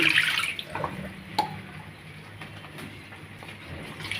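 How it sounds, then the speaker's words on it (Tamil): Water poured into a pan of street-stall style watery tomato chutney, a soft splashing and trickling pour that fades into faint drips and quiet kitchen ambience. "கூட கொஞ்சம் ஜலம் விட்டுக்கலாம் அலம்பி"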